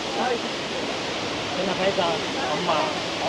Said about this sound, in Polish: Robi, robi, robi robotę tym wodospad.